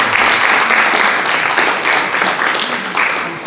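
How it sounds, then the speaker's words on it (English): An audience at an evening lecture on government and education applauds steadily, a dense wash of many hands clapping close and continuous, fading slightly at the end with no talk over it. "Let's give our elected officials a round of applause for coming out this evening."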